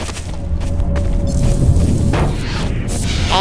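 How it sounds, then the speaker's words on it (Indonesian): A deep, booming underwater explosion in Half-Life 2 rumbles through steady game noise, a muffled low thud sustained for a few seconds. "Oh, dilempar ke air meledak."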